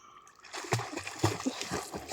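A fishing net is cast into water, making a couple of soft splashes followed by sloshing and trickling, close by, with faint voices in the background.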